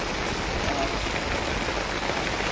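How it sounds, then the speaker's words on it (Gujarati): Heavy monsoon rain pours over farmland in Banaskantha, a dense, even hiss with no breaks, loud and close. "અત્યારે તમે જોઈ રહ્યા છો કે મન મૂકીને મેઘરાજા વરસી રહ્યા છે."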